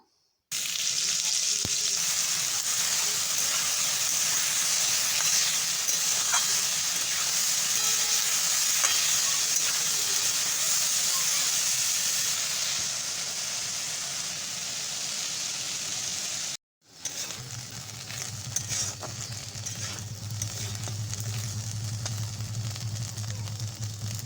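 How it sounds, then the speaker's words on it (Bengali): Steady, loud sizzling of potatoes frying in a pan continues throughout, with a brief gap and a low hum joining in the later part. "এবার আলুগুলো ভেজে নেব"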